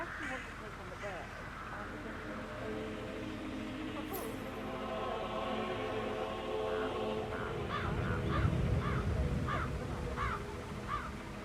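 Crow caws from the Hitman video game, several harsh calls repeating in a quick series toward the end, sounding under in-game dialogue and ambient noise.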